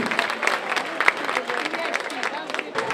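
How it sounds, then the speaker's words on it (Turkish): A theatre audience at a Nevruz celebration applauds the performing group, crowd clapping mixed with murmuring voices and some talk, fairly loud and continuous for a few seconds. "Öncelikle bir moral alkışı alıyoruz kendileri için"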